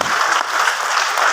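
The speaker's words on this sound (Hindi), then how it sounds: "जोरदार तालियां" Audience applause at an internal business meeting, a short, steady burst of many hands clapping at close range, continuous and even throughout.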